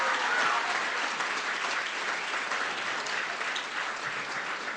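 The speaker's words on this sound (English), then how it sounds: "How about a big round of applause for all of our teams and all of our schools?" Evening crowd at a school STEM program kickoff applauds teams and schools, a steady, even wash of many hands clapping with no talk over it.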